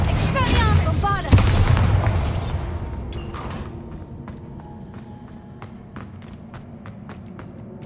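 Bombarda blasting spell going off in Hogwarts Legacy, a loud booming burst with crackling debris that fades into a lingering rumble and scattered clicks, with a voice heard over it.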